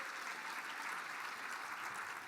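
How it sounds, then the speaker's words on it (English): An audience at the Mille Lacs Band of Ojibwe State of the Band address gives a round of applause, a steady, even patter of clapping held at a moderate distance throughout. "Let's give Gilda one more round of applause, please."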